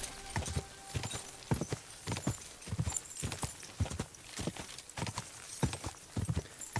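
Horse hooves pound in a quick, steady rhythm during a horse race in the video game Kingdom Come Deliverance 2, the clip-clop close and continuous with no voices over it.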